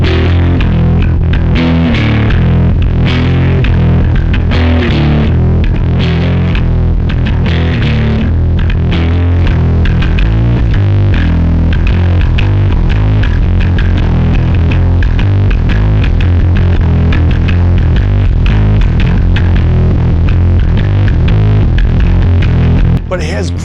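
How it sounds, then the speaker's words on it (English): Bass through a Tech 21 GED-2112 Geddy Lee SansAmp preamp, drive and saturation fully cranked, plays a gritty, driving riff for a long stretch, loud and dense with fuzzy overdrive throughout. "you can get what I call the full dirty on this by cranking the drive and the saturation all the way up"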